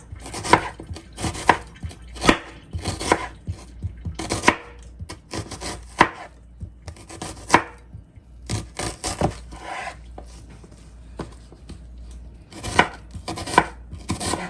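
A knife slices through an onion on a cutting board in steady, crisp strokes, repeated thumps and scrapes coming close and clear with short pauses between runs, no talking.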